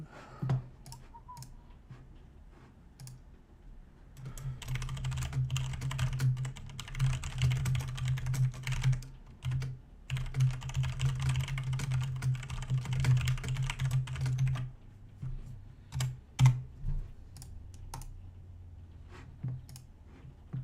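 Loud computer keyboard typing during an online card game session, bursts of rapid close clicking and clacking keys separated by quieter pauses and a few isolated keystrokes.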